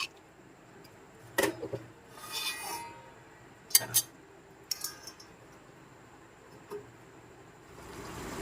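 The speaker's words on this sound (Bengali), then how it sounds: "এখন একটা ঢাকনা দিয়ে ঢেকে দিচ্ছি আমি।" A lid set down on a pan of cooking chicken gives a few light clinks and clatters, close and fairly quiet, spaced over several seconds with a soft hiss of cooking in between.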